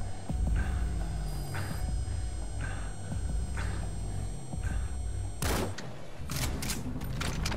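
Gunfire in the Metal Gear Solid V: The Phantom Pain video game: repeated loud shots and bursts in an irregular rhythm, with a heavy cluster of blasts toward the end.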